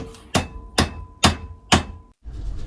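A hammer knocks at a metal bearing housing on a car, giving four sharp, ringing blows evenly spaced about half a second apart, loud and close.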